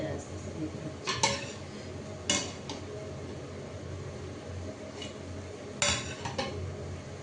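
A spoon scrapes and clinks against a cooking pot as rice is served out gently, with a few sharp metallic knocks over a low background hum and faint bubbling.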